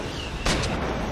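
A point-blank gunshot in the video game Crab Game 2: one loud, sharp blast cracks out suddenly after a brief hum and rings briefly afterward.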